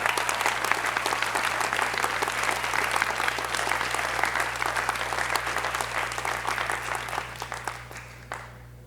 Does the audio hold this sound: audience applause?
yes